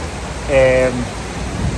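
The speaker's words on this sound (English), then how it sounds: "It is raining quite heavy." Heavy storm rain pours down in Perth, Western Australia, a constant close hiss heard from under a shelter, with a short voice briefly rising over it.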